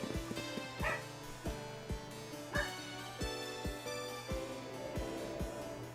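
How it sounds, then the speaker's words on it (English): Dogs barking in repeated sharp bursts roughly every half second to second, fairly close and loud, with occasional yips and higher whining calls layered in over a steady low background hum. "Apologies for the barking dogs."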